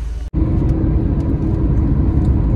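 A car engine self-started on a hot day before a drive to Daman: after a brief cutoff it catches into a loud, steady, low idling rumble that stays close and continuous.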